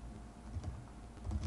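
Computer keyboard keys pressed in a short burst during paste shortcut entry, soft close clicks under a low room hum, no talk.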